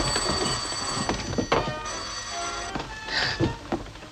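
An old-fashioned telephone bell rings loud and close in several short bursts with brief gaps, a bright metallic jangle set in an interior from a vintage comedy.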